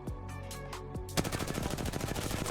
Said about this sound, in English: Let me shoot one magazine.